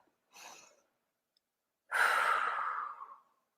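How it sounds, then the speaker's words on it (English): Two audible breaths during a calming tapping exercise: a short, soft intake, then after a pause a longer, deeper exhale that fades out, close and quiet with no talking. "and then I take a nice deep breath."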